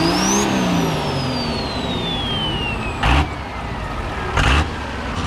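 A Cummins diesel engine in a dumpster build revs up loud and close, then settles into a steady roar with two short throttle blips near the end, no talk.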